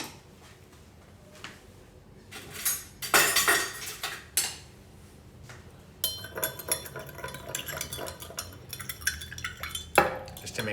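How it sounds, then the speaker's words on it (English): A spoon stirs a brown butter old fashioned cocktail with sugar in a glass, giving bursts of clinking and scraping against the glass, close and crisp, with quiet gaps between stirs and no speech. "I'm gonna give this a stir."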